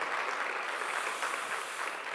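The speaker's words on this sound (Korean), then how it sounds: "교회를 주신 하나님께 감사와 영광의 박수를 함께 돌려드리면 감사하겠습니다" Church congregation applauding at an anniversary service, a steady wash of many hands clapping, fairly faint and continuous with no voices over it.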